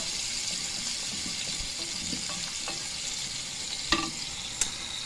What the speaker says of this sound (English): Frying it in.